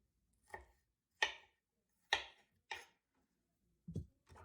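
Fresh ginger being sliced with a knife for a veggie stir fry gives five or six sharp, separate cuts against a cutting board, spaced irregularly with near silence between them, close and crisp.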